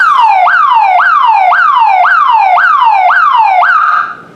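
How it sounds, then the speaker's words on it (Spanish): A 50-watt alarm siren triggered by an RF remote control wails in a fast repeating rising-and-falling sweep, about eight cycles, very loud and close, then cuts off abruptly near the end. "esta sirena es obviamente de más vatios, este es de 50 vatios"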